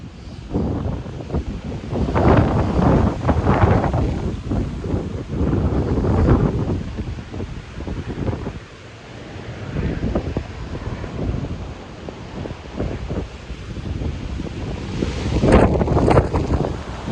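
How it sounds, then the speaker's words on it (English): Strong Hurricane Sally winds roar steadily into the microphone, loud and unbroken, swelling and easing in gusts with a brief lull midway, amid downed trees and debris in light rain. "yeah, it's windy."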